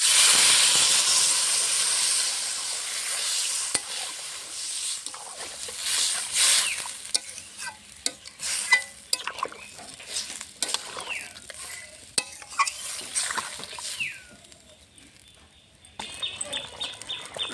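Water is poured onto sautéed vegetables and spices in a pan for a fish curry. It gives a loud hissing burst of steam that fades, followed by quieter bubbling and irregular stirring scrapes close by.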